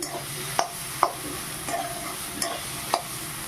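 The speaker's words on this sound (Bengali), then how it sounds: "পুরোপুরিভাবে শাক ভাজি হয়ে গেছে বাদাম দিয়ে" Soft sizzling of leafy greens frying with peanuts in a wok, punctuated by several metallic taps and scrapes of a spatula stirring.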